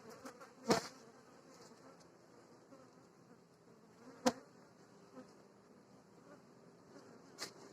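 A continuous drone of honeybees buzzing close by at stacked hives, broken by a few sharp clicks or knocks.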